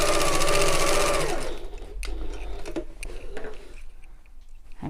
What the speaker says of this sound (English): just add another line of stitching in the seam allowance all the way along